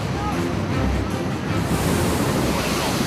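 Unusually large ocean waves break onto a Southern California shore with a loud, steady roar of surf and wind rumble, the wash swelling near the end.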